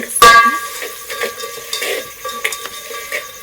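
Carrots and fish stirred in a hot frying pan, a sharp utensil clank at the start followed by scraping stirs and light sizzling, close and fairly loud with no talking.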